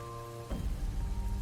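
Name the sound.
light rain hitting windows, sound effect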